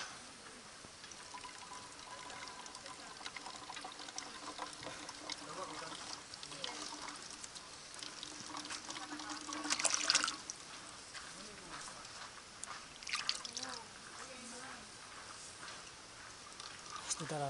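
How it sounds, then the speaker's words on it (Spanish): Water is poured into a runner's soft flask during ultra-marathon race preparation, a faint trickling pour that swells briefly midway, under quiet outdoor background noise. "llenamos el agua."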